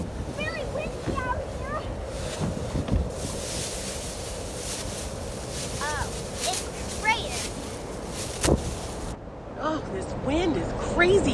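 Strong gusty wind buffets the microphone in loud, continuous rumbling blasts, with voices speaking over the blustery roar.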